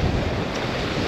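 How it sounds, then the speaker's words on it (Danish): Sea waves rolling onto the beach at Tårup Strand with steady wind buffeting the microphone, a continuous broadband wash with no pauses and no voices. "Bølgerne begynder at drille, vinden driller."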